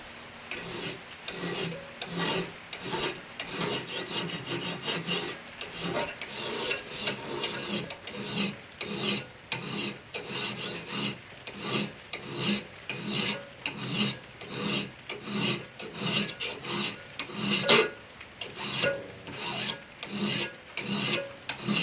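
Steel knife blade being draw filed along its initial grind line for a Scandinavian woodcraft knife gives a steady run of rhythmic rasping strokes, loud and close, with no voices.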